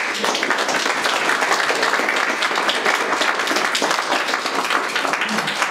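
Dense, steady applause from a crowd, loud and sustained throughout with no break, many hands clapping at once.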